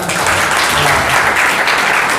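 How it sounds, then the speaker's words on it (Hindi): A youth seminar audience claps loudly together, a dense, even burst of applause that stays full for a couple of seconds without a break. "क्यों ना हम सभी के लिए ताली बजाएं जोरदार।"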